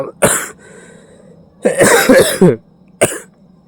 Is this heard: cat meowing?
no